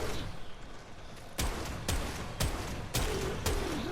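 Four sharp gunshots from a Strun Wraith shotgun in the video game Warframe ring out at an even, steady rhythm over a low game-ambience hum, each blast loud and close.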